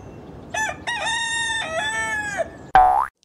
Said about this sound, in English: C for chicken